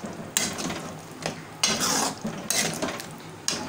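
Chole in a pan being stirred after black cumin is sprinkled in, several scraping, clinking strokes of a spoon against the pan with a faint sizzle, close and moderately loud, no voice.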